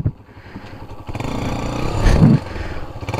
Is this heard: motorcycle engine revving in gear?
yes